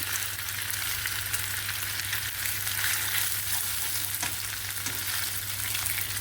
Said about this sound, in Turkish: Dilerseniz burada biraz yüzünü kızartabilirsiniz.